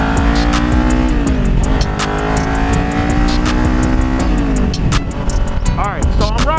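A motorbike accelerating on a city street, engine loud and close with rising, wavering revs and gear changes over a busy traffic background.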